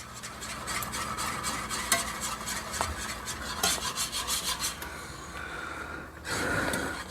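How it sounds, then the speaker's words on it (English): Sauce for Swedish meatballs being stirred in a pan, with a continuous close scraping and rubbing of a utensil against the metal over a soft sizzle. "Just keep stirring till it becomes smooth."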